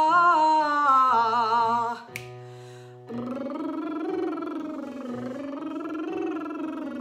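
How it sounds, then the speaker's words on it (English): A singer's vocal warm-up: a buzzing lip roll sweeping up and down in pitch, a brief pause with a sustained tone, then the voice opens into a sung 'ah' vowel gliding through a similar melodic line, with a soft piano accompaniment underneath. "So lip rolls for two rounds, twice around the frame that we're gonna do in a sec."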